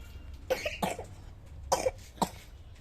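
A feverish child coughs in short bursts, two quick coughs followed by two more after a pause, close and fairly soft in a quiet room.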